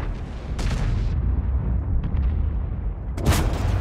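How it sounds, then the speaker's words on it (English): A tank cannon shot strikes the turret top of an M26 Pershing in a tank battle video game and bounces off without penetrating; loud booming blasts over a constant low rumble, with a heavy burst near the end. "he did get a shot into the top of the turret"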